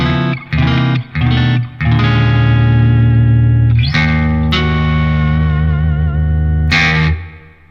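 An electric guitar played through a Line 6 POD HD500X set up with the '63 spring reverb model rings out loud, sustained, slightly distorted chords and notes, alone, each one trailing off in reverb.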